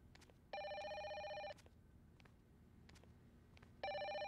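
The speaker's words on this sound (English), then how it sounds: "Oh my god, it's a phone." A telephone rings in the Fatal Frame: Maiden of Black Water horror game, two clean electronic trills about a second long separated by a pause, over a low dark ambient hum and faint clicks.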